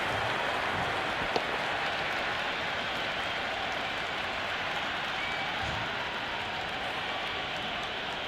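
A stadium crowd in the cricket video game Cricket 26 applauds a boundary, a steady wash of distant clapping and murmuring that holds at an even, moderate level.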